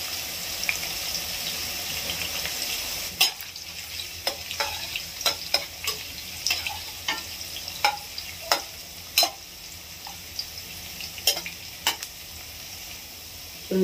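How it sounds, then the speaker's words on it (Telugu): Chicken sizzles in hot oil with browned onions in a pan for a green masala chicken curry, a steady frying hiss broken by repeated scraping stirs and clacks of the spoon, close and with no talking. "ఇప్పుడు కొద్దిగా కలర్ చేంజ్ అయిన తర్వాత మనం చికెన్ వేసుకున్నామండి."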